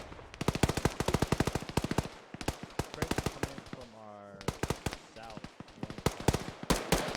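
Gunfire in the video game ArmA 3: dense, rapid automatic bursts of loud cracking shots that continue almost without a break, with a voice talking briefly in the middle.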